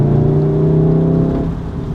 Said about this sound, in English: Hear little backfires in the exhaust, like little puffs of exhaust note